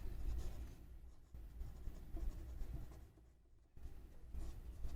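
A maths formula being written out by hand, a steady, close scratching of writing that runs continuously with brief pauses and no talk.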